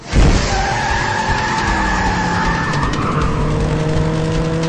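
Car speeding off with skidding, squealing tyres, a loud sustained screech and engine roar that starts abruptly and carries on without a break.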